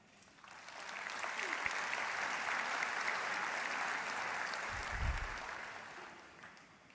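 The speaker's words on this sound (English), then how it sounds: "Could you applaud them, please?" A graduation ceremony audience for a health sciences faculty applauds in a broad, steady wash of clapping that swells and holds for several seconds, then tapers off, with a brief low thump near the end.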